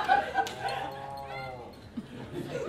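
A cow gives a soft, drawn-out moo of about a second with a clear harmonic tone, heard fairly close over a low steady background rumble, with some brief noises before and after.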